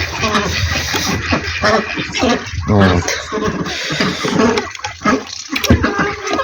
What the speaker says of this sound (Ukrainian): а ще води їм налити